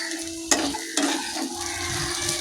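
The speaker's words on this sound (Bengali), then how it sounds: "আলুটাকে আমি ভালো করে মশলার সঙ্গে কষিয়ে নিব" A spiced potato filling with turmeric, salt and ajwain sautés in a pan, giving a soft, steady sizzle broken by two sharp scraping clanks of a utensil stirring against the metal.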